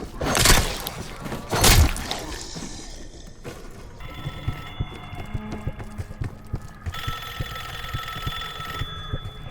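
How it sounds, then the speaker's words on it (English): Telephone ringing during Call of Duty Black Ops 6 gameplay, a steady electronic ring sounding in repeated bursts after a couple of loud thuds, mixed with faint background game ambience. "Answer the phone."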